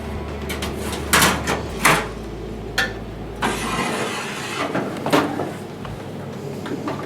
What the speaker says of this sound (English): all I have to do now is push the filter drawer back into position, pop my lid on,